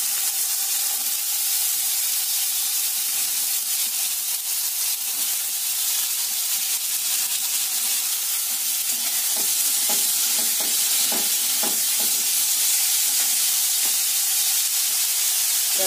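Carrots and potatoes fry in oil tempered with mustard seeds and curry leaves, a continuous loud hiss and sizzle with occasional stirring scrapes and crackles partway through.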